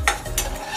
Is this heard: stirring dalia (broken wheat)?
yes